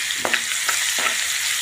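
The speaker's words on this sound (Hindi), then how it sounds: "अच्छे से मिलाएंगे और अच्छे से पकने देंगे प्याज को" Finely chopped onions frying in a pan with bay leaf and asafoetida for a potato curry, a bright continuous sizzle with three quick, light stirring scrapes.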